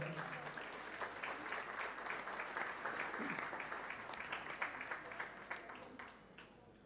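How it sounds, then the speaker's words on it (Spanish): An audience claps for honour-roll agronomic engineering students at a university anniversary academic ceremony, sustained applause that is fairly faint and roomy, thinning into a few separate claps at the end. "Los recibimos con un aplauso a ellos, por favor."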